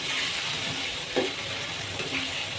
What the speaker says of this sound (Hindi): अब मसाले के साथ अच्छे से इनको भूनूँगी मैं आलूओं को